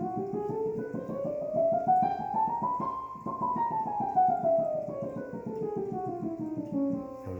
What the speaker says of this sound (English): So a chromatic scale obviously sounds like this.